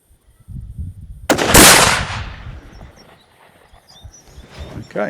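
A single .308 Winchester rifle shot firing a Remington Core-Lokt round cracks loud and close, then rolls off in a decaying echo, with faint handling noise before and after.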